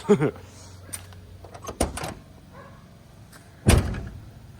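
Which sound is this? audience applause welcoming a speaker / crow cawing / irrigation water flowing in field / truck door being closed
truck door being closed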